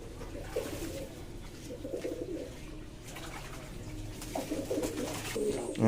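Pet pigeons coo steadily at close range, the newly arrived birds squabbling with an older resident, with some scuffling and flapping underneath and a louder rustle at the end.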